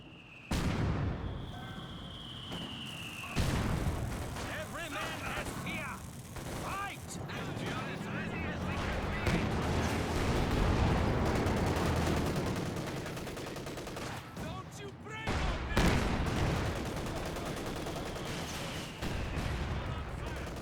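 Bursts of small-arms and machine-gun fire in the WWII strategy game Company of Heroes 2, loud crackling volleys repeating over about twenty seconds amid battle noise, with someone talking throughout.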